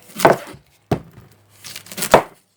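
A knife chops through an onion on a cutting board in three or four separate bursts, close and fairly quiet, with pauses between the cuts.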